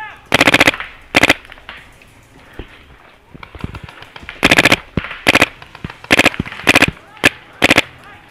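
Paintball markers fire rapid bursts during an outdoor paintball game, sharp loud volleys of clustered shots in several separate strings with short pauses between.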